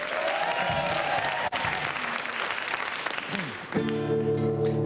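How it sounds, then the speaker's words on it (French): A television studio audience claps for Marie Trust, brisk applause that fills the first part before music with sustained tones comes in near the end. "On applaudit Marie Trust."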